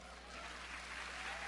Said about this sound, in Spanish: ¿No le dan un aplauso?